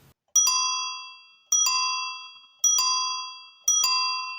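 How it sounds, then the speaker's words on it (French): An old Solex moped bell, a grandfather's original bought in Rochefort, rings four times at regular intervals, each a bright double-struck metallic ding with a long, clear ringing decay, close and alone. "c'est une sonnette de Solex."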